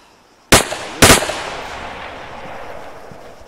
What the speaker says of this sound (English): Oh, someone shooting at us.